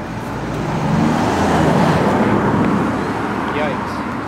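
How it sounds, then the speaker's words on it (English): Cars pass close by on a road beside a canal in Mayo, a swelling rush of traffic that builds and fades over a few seconds, with speech faintly present. "I'm a little scared about how close the cars are."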